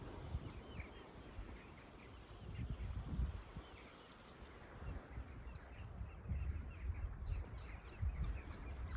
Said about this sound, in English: So for me, I can hear the birds, I can hear the waves.